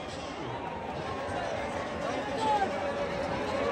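A crowd erupts in a noisy celebration after a win at a bullock cart race on open ground. The cheering and babble form a steady wash of many voices, with a louder swell near the end.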